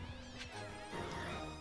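A pet cat gives a couple of drawn-out, wavering meows close to the microphone, with no talking.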